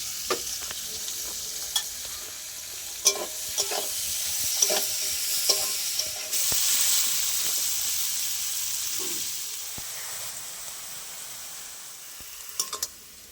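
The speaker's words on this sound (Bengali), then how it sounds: "এবার তেলের মধ্যে বেরেস্তাটা ভেজে নেব" Birista fried onions sizzling in hot oil for a kalbose fish recipe, with a steady hiss and occasional sharp clicks of a spoon against the pan, nearby, growing briefly louder midway.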